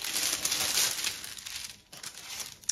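Soft, close crinkling of tissue paper from a handbag package, a continuous rustle that eases off briefly before a final crisp rustle.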